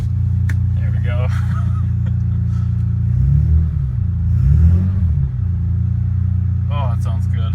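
A BMW S54 engine runs just after a cold start on a snowy February day, a loud deep steady idle with a couple of small rises in revs, while people talk briefly over it.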